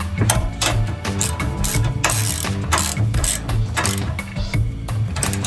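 Ratchet wrench tightening bolts on a T56 transmission mount with a polyurethane bushing, rapid clicking pawl strokes in repeated bursts, loud and close, with no talk.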